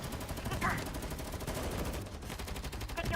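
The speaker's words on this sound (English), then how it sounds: "intense gunfire erupts from below. Shots and explosions coming one after another." Rapid bursts of gunfire and explosions from the GFL2 Exilium video game crackle densely and continuously at high intensity, with a sharper blast early on and faint speech mixed underneath.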